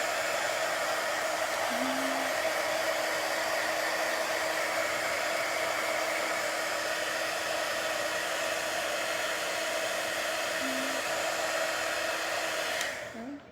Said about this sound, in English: If you're at home, just use your hair dryer